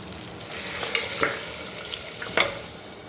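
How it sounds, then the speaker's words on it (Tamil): Mutton frying with tomato and onion in a pan is stirred, a steady close sizzle broken by a few sharp scraping strokes of the spoon, no one talking. "எல்லாத்தையும் நல்லா கிளறி விட்டுக்கலாங்க"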